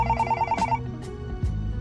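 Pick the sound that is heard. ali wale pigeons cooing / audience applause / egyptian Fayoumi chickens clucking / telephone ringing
telephone ringing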